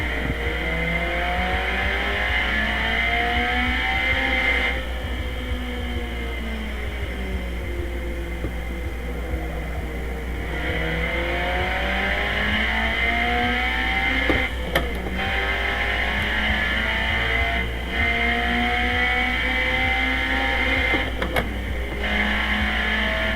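Ford Sierra RS500 Cosworth BTCC race car engine at Monza in Assetto Corsa drones loud and continuous, pitch rising and falling through repeated long accelerations and gear changes, with brief dips between shifts.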